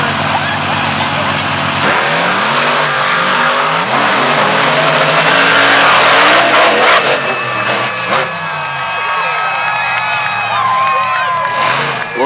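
Grave Digger, driven by Chad Tingler, and a rival monster truck roar through a final-round race at Fishersville, Virginia, with big engines revving and surging loudly over cheering crowd noise and an announcer talking throughout.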